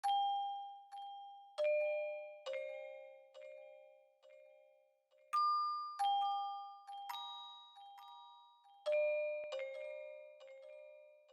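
A synthesized "purity bell" melody from a pluggnb beat rings out, clear chiming notes struck one after another and left to decay, playing alone at a moderate level.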